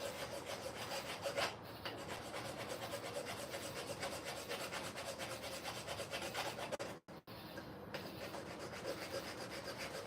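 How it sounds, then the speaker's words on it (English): Metal on a gen1 Ford Coyote engine is ground down to make room for a gen3 intake manifold, a steady, harsh rasping close by that cuts out briefly near the end and then resumes. "I think I'm going overboard with how much I'm grinding"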